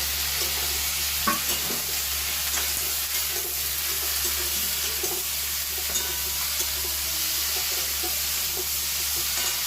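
Chopped potato and eggplant are stirred into a frying pan of tomato and spices for a fish-head curry, giving a loud, continuous sizzle with soft scraping and stirring sounds throughout.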